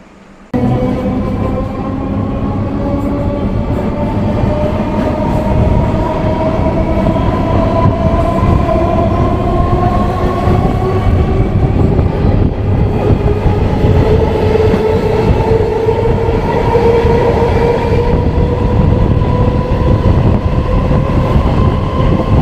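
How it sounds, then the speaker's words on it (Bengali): A train pulls into a platform at Sealdah station, its steady rumble loud and close throughout, with rising squealing wheel tones as it rolls in and slows. "চলুন তাহলে, ট্রেন ঢুকে গেছে"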